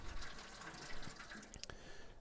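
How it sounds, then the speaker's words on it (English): Water poured into the bottom of a Broil King KEG smoker, a quiet steady splashing trickle with a few drips near the end, faint and with no talk. "I'm going to put some water in the bottom here."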